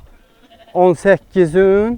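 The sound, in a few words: sheep bleating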